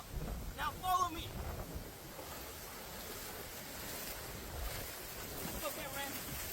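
Hurricane Milton storm surge floodwater swirls and splashes around someone wading waist deep near homes, with a continuous rush of water and heavy wind buffeting the microphone.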